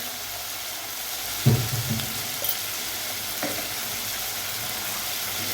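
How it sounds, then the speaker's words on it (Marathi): Sabudana khichdi gets stirred in a hot pan, a steady soft sizzle with a spoon scrape and clatter near the start and another light knock later. "छान मिक्स करून घ्यायचं"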